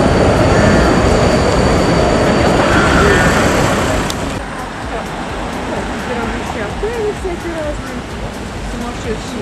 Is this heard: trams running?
yes